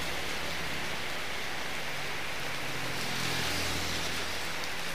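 Heavy rain pours steadily and loudly outdoors, a dense unbroken hiss filling the whole stretch with no voices.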